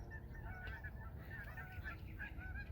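Several geese honk repeatedly in a loose, overlapping chorus, moderately distant, over a low outdoor rumble, at Henderson Bird Viewing Preserve ponds in Nevada.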